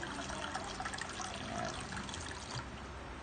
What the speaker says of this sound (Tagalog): Maglagay tayo ng tubig guys sa isang